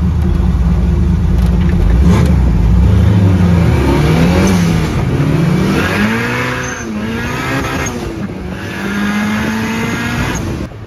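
The engine of a 1500-pound, 400-horsepower Honda go-kart revs hard and close, rising and falling in pitch through repeated accelerations, with a faint whine above.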